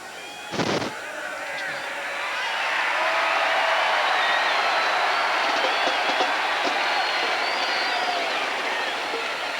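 A stadium crowd at a Rainbows college football game breaks into sustained, broad applause that swells after a sharp early thump and holds as a dense roar to the end.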